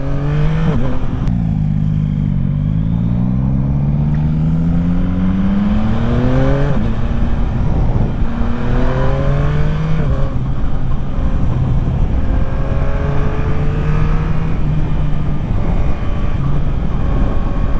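A 2025 Yamaha MT-09 three-cylinder motorcycle, ridden in its A2-restricted form, revs up and shifts through gears, its engine note rising and falling in repeated sweeps, loud and close against steady wind noise.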